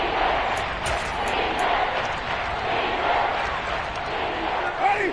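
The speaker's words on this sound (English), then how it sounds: "The crowd getting into it as we come up on a big third down" Stadium crowd noise in the Madden football video game, a steady broad roar of cheering that swells slightly and holds for several seconds, with faint announcer talk underneath.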